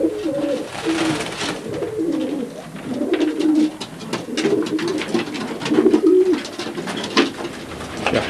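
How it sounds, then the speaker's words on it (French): Many racing pigeons coo in a loft on an afternoon, their low throaty calls overlapping continuously and close by, with soft rustling and a few sharper background noises. "Ah, beaucoup de pigeons ici."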